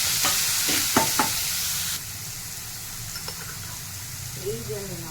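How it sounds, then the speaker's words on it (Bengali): Onion dropped into a little hot white oil in a pan for a shimla mirch paneer curry, giving a steady close sizzle and hiss with a few sharp stirring clatters early on, quieter frying afterward. "এবারে আমার পেঁয়াজটা দিয়ে দেবো।"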